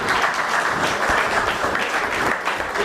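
Steady, dense applause from a crowd at a speaking event, loud and continuous throughout with no voices on top.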